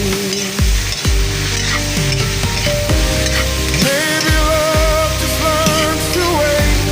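Onion frying in a pan, a loud steady sizzle running throughout with occasional clinks and scrapes of stirring, close and without talk.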